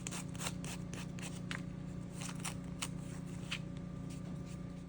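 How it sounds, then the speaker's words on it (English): Napkin paper is sanded off the edges of a wooden rolling pin in quick, close, rhythmic rasping strokes over a steady low hum. "Now I'm going to just go around the edges and sand off the extra paper."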